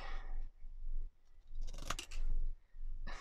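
Scissors snipping through paper during junk journal tag crafting, a few quick close cuts in separate bursts with quiet pauses between.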